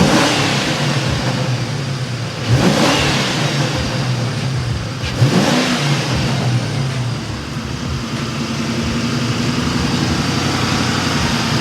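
A car engine revved in neutral while parked, with two distinct throttle blips rising and falling over a steady loud idle, heard close with no talking.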